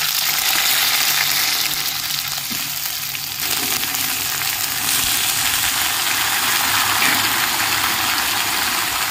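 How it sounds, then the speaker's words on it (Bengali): Cut vegetables with dried red chillies and five-spice tempering fry in hot oil for a pumpkin-greens dish, making a loud, continuous close sizzle with occasional stirring and no talk. "সবজিগুলো একটু ভেজে নেব"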